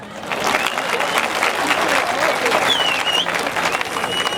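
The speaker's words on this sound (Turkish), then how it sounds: "Bir kez de şöyle alkışlar emeği geçenlere gelir mi?" Audience applause at a music album event honoring those who worked on it, a dense, steady roar of many clapping hands building quickly and holding strong throughout, with some voices underneath.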